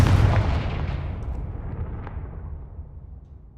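A Confringo spell explosion in the video game Hogwarts Legacy: one heavy, booming blast up close that slowly fades into a rumbling tail, with no other sound over it.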